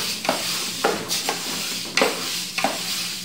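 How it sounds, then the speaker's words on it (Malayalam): Moong dal dry-roasting in a pan until the grains start to crack, stirred with a spoon: five or so scraping, rattling strokes in a loose rhythm over a faint sizzle, close up with no voices. "പയറൊന്ന് പൊട്ടുന്ന പരുവ വരെ വറുത്തെടുക്കണം."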